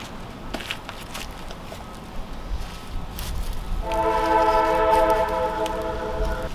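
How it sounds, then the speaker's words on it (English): A train passing near an outdoor adobe brick building site: a low rumble and a few footsteps at first, then a loud, sustained horn blast rising over the rolling noise. "Train's here."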